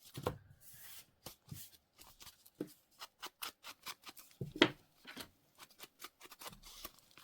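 Scissors snip repeatedly up close, a series of short sharp cuts at an uneven pace with quiet pauses between them.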